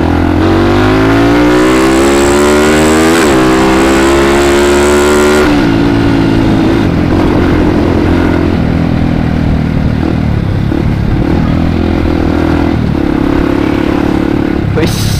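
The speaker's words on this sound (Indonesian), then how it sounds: "Ya mau kemana ini motor Vega?" A Vega motorcycle engine revs loudly, its pitch sweeping up and falling in repeated climbs before settling into a steady idle with someone talking over it.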